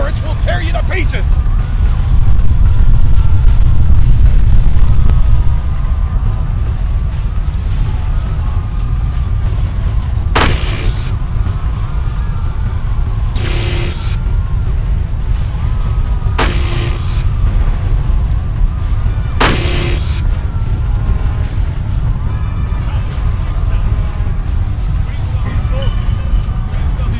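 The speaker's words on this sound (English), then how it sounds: "Those auto turrets will tear you to pieces!" Automated gun turrets fire amid explosions in a futuristic video game battle: a constant heavy rumble with four sharp bursts spaced roughly three seconds apart, while voices talk over the action.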